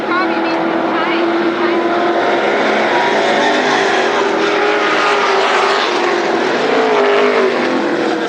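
Late model race cars circle the Berlin Raceway oval at a 1997 race night, producing a loud, unbroken engine roar that swells and shifts in pitch for the whole stretch.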